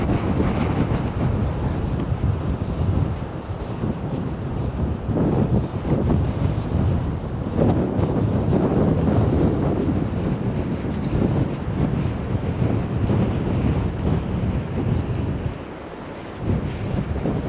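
Strong wind buffets the microphone on a hazy coastal walk at Rest Bay toward Sker Point in Porthcawl, a loud, steady roar with gusting surges and a brief lull near the end.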